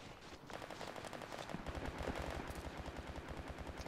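Sniper gunfire in the World War 3 video game, a rapid run of sharp shots that keeps going at a steady pace, loud and close, with no talking over it.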